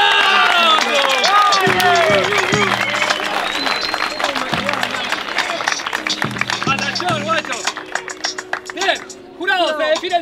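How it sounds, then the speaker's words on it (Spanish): Audience applause and cheering at a Spanish-language song battle, loud and dense throughout, with a voice and music-like tones over the crowd. "¡Fuerte el aplauso!"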